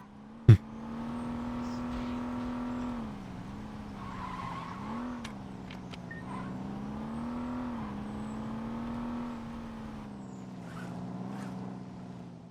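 Car engine in Saints Row 2 drones steadily at a close, even level for the whole stretch, its pitch wavering as the car speeds up and slows, with a sharp bang near the start.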